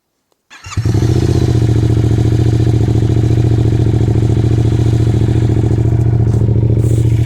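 A T7 Camel ADV motorcycle with a high exhaust kit starts and settles into a loud, steady idle with a rapid, throaty exhaust pulse, close by.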